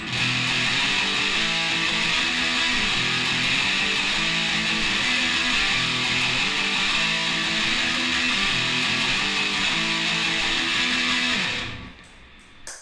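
An electric guitar strums a steady pattern of two-note chords with the root note dropped, sustained and fairly loud, ringing out before fading near the end.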